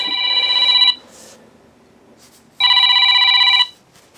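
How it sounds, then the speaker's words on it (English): A mobile phone rings in two loud electronic bursts about a second long each, separated by a pause, close and clear with no talking. "I'm just going to let my phone ring out, please."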